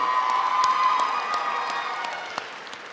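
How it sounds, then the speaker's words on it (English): Audience applause at a college spring commencement ceremony in a large hall, a broad wash of clapping with some cheering and a sustained tone, gradually fading over a few seconds. "give a round of applause to the faculty and staff"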